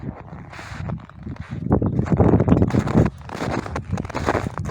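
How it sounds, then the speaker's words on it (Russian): Gusty cold winter wind buffets the microphone in rough, rumbling bursts, loud and uneven throughout. "Немножко ветерок, ветер холодный"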